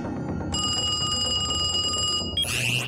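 A telephone rings in the Gravity Falls cartoon, a loud bright electronic trill that starts abruptly and holds steady for about two seconds before cutting off.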